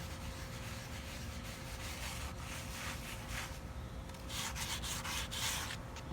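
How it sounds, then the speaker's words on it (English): A wooden table being sanded by hand, a soft, steady rubbing scrape that goes on through the whole clip, faint and close, with light surges in rhythm toward the end. "This one, for example, is ready to be sanded."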